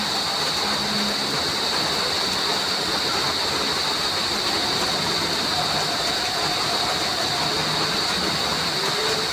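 Heavy rain roars as a dense, constant wash of noise, steady and loud throughout the clip, with a high insect-like hum running above it.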